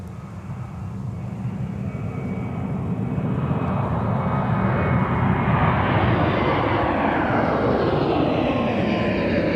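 An airliner's jet engines roar at Minneapolis–St. Paul Airport as it lands on runway 30 left, a broad steady rumble that swells gradually and stays close and loud, with no voices over it.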